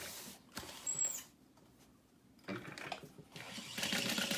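A sewing machine stitches a backpack pocket with a short stitch length and back-stitching, running in a few short bursts with brief pauses between them, fairly quiet and with no voices.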